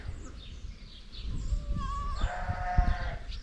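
Sheep and goats on a farm pasture bleat several times, close and moderately loud, with soft low handling noises and footsteps; a woman calls to the animals in between.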